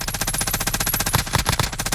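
An MG82 machine gun fires in a video game in a steady, rapid automatic burst of loud, evenly spaced shots, close and alone with no talk over it.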